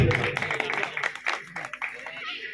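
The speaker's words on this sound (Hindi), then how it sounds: "एक बार तालियां बजाए विनोद जी के लिए आप" An audience at a song performance dedicated to labourers claps for a performer in a dense, fairly close burst that thins out toward the end, with voices mixed in.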